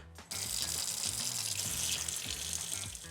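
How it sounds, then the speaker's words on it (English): Kitchen tap water runs in a steady, loud gush while hands are washed before baking a coconut cake, starting abruptly after a brief pause and continuing without break. "Let's wash our hands and get started."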